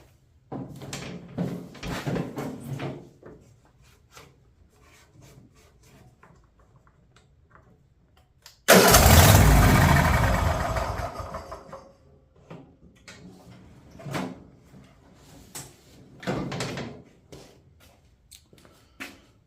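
A Cub Cadet mower engine, cranked with a jump pack, bursts into a loud broadband roar for a few seconds and then dies away. Quieter clicks and knocks come before and after it.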